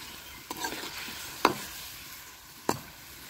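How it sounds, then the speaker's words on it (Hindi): Chicken sizzles in plenty of cooking oil in a karahi for charsi karahi, cooked outdoors on a rooftop, with a steady fry hiss broken by a few sharp stirring scrapes and clanks against the pan. "चिकन को कुकिंग ऑयल में भूनना है"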